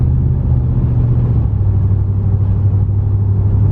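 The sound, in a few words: Ram 1500 Hemi truck engine idling, RPMs rising and falling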